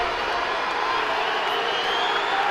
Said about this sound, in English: The Seawolves urged on by their crowd